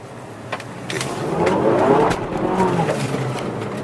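A 2018 Mazda 3 with a manual gearbox accelerating from a stop, its engine note rising steadily and fairly loud from inside the car, with a few light clicks and knocks early on.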